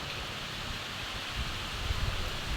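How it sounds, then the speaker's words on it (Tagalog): Strong wind roars steadily during a storm with heavy rain, a dense broadband rush with gusty low rumbling against the microphone and no voices. "Dito po pala grabe ang lakas ng hangin."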